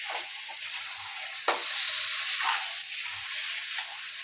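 Chicken pieces stir-fried for a Bengali chicken kosha sizzle steadily in a pan, with a sharp scrape of the spatula near the middle and softer stirring scrapes after it, all close and moderately loud.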